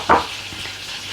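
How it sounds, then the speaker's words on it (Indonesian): Chicken frying in a pan on a home stove, a steady close sizzle with a short louder burst near the start and no talk over it. "saya lagi goreng ayam buat Koko"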